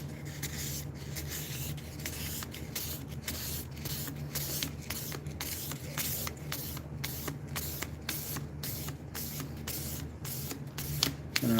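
Close, regular scraping strokes of a knife being sharpened on a 2000 grit stone, repeated at a steady pace for the whole stretch with no talking.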